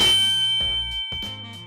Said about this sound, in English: subscribe, and hit the damn bell.